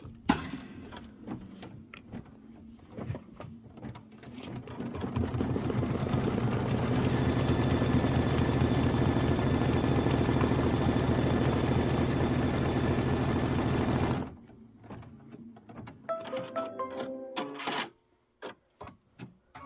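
An embroidery machine stitches pocket divider lines on a roll-up pouch in pistachio thread. The steady mechanical whir and needle rattle run for about nine seconds, with clicks and handling noises before and after.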